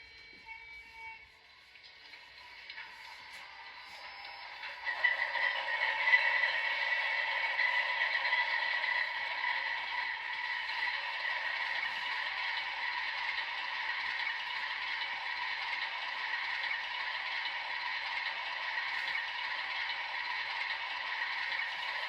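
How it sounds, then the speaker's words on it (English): Sound decoder in a Kato HO scale P42 model locomotive powers up, a faint mechanical start giving way to a steady diesel-like drone with tonal layers that persists evenly, no voices. "now I'm going to start the locomotive."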